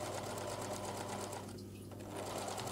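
A sewing machine runs a zigzag stitch on felt for an Easter basket, making a rapid, steady, close mechanical whir throughout.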